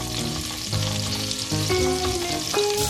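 A drizzle of olive oil and two spoons of butter sizzle in a large pan, a steady bright hiss running under tonal background music, with no talking.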